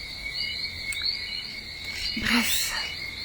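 Small frogs and other animals calling at night outdoors in Guadeloupe, a dense steady chorus of high trilling chirps with a louder nearby burst of calls, no speech.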